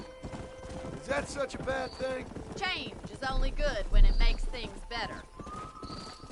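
Horse hooves clip-clop in the Red Dead Redemption video game, a steady rhythmic trot running beneath people talking over most of the clip.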